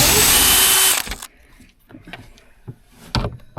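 A power drill whirs steadily for about a second while backing out curtain rail screws inside a tour bus being converted, then cuts off, followed by light clicks and handling knocks nearby.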